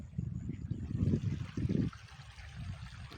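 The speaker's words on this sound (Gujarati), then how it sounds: "પાણીના ઝરણા ચાલુ જ છે" Water of a small stream trickles and burbles steadily outdoors in open country, with a continuous low gurgle and faint broadband background.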